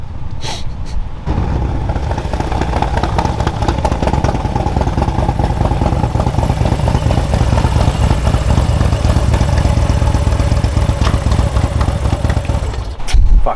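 Harley-Davidson Street Glide M8 motorcycle with a Baker GrudgeBox racing transmission starts up and runs at a loud, steady idle with mechanical clatter for about twelve seconds before a clunk at the end.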